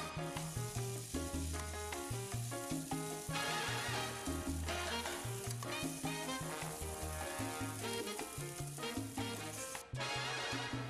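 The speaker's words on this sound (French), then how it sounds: "Je vais passer à la cuisson qui va durer 5 à 6 minutes de notre viande dans une poêle bien chaude." Spiced chicken shawarma meat fries in a very hot pan with a continuous hiss, heard beneath loud background music throughout.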